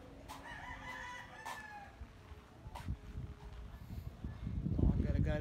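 Roosters crow and chickens cluck outdoors in a farmyard, several calls rising and falling at mid distance, with a person talking nearby and louder rustling and movement toward the end.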